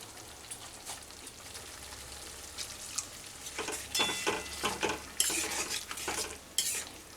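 Spiced potol (pointed gourd) mixture with garam masala being sautéed in a pan, a soft sizzle under repeated scraping strokes of a spoon that grow louder and more rapid toward the end.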